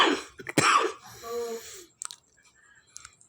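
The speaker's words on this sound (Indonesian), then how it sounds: "Maaf ya, lagi batuk teman" A man coughs in a short harsh burst, then gives a throaty wheezing cough and a few quieter rasps and clicks, close to the mic with no speech.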